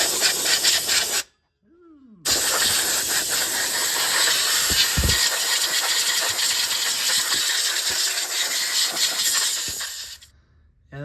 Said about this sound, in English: we'll see how much dust comes off when you blow out the clutches